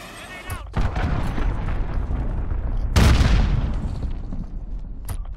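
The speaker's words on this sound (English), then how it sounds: "Allied cruise missile away." A large cruise missile strike explodes in Call of Duty: Modern Warfare, a loud deep boom bursting out about midway and rumbling as it fades, set amid ongoing game noise and a distant earlier blast.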